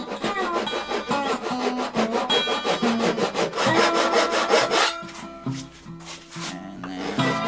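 A hand saw cuts into wood along a chiselled knife line during cupboard door joinery, its strokes steady and rhythmic, close and fairly loud, with no talking.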